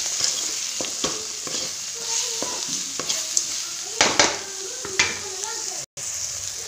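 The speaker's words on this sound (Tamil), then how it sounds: "போட்டு நல்லா வதக்கிக்கணும் ஓரளவு கத்திரிக்காய் நல்லா வதங்கிச்சு" Eggplant with spices sautéing in a pan, a steady sizzle broken by repeated scraping stirs and spoon knocks against the pan, close and fairly loud, with one brief dropout near the end.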